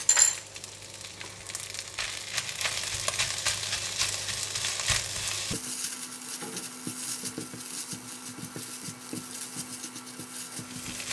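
Egg and vegetables frying in a hot pan for shrimp fried rice, a steady sizzle running throughout with light stirring clinks and a shift in tone partway through, no voices.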